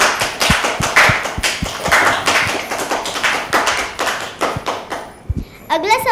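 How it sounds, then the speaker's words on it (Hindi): A group claps for a child who answered a quiz question correctly at a school Independence Day program, with fairly dense, steady applause that fades before a voice briefly speaks at the end. "इनके लिए तालियां"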